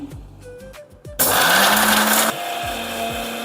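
A mixer grinder powders roasted spices with turmeric powder and curry leaves for chicken sukka, with a loud, close, high-pitched whirring burst of about a second after some light handling clicks, then dropping to a lower hum.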